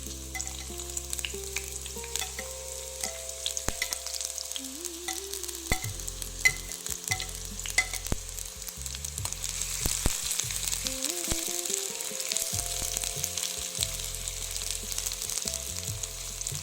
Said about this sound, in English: Once the oil is heated, add the chopped onions and let them fry.